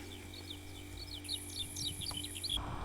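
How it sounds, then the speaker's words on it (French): A Eurasian skylark sings a rapid, twittering series of high chirps and trills, fairly faint against a steady low hum. "L'alouette des champs"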